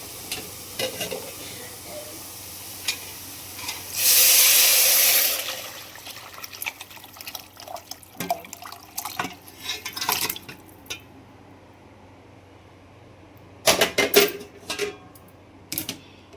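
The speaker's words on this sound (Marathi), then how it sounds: "आता ह्याच्यात आपल्याला टाकायचं आहे आपण शिजवलेल्या मटणाचं पाणी" Cooked mutton stock hits roasted masala in a hot pan, a loud rush of sizzling and splashing for about a second, followed by scattered stirring scrapes and clinks of a spoon against the pot.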